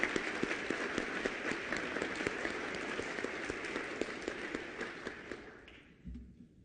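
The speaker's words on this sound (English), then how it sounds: "I want to just take a minute to give them another round of applause for their excellent remarks" An audience applauds speakers at a youth council event, with steady, close clapping for about six seconds before it fades out.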